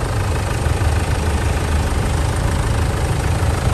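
A Hyundai Santa Fe seven-seat diesel with automatic transmission idles steadily at a used car lot, a continuous low rumbling drone with even vibration, close and fairly loud, no talking.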